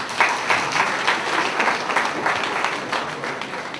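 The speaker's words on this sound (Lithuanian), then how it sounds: "Pasveikinkime ją plojimais." Steady applause from a theatre audience at a comedy league show, a dense patter of many hands clapping throughout at moderate level with no talk over it.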